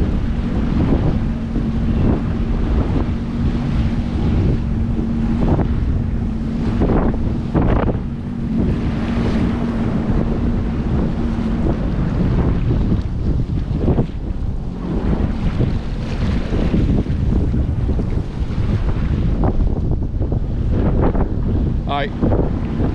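Steady wind buffets the microphone beside Toronto harbour, a continuous broadband roar that fills the whole stretch, with a faint low hum and a brief voice in the background.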